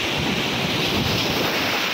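Sea waves wash continuously over a rocky beach, a steady rushing surf with wind buffeting the microphone and no voices.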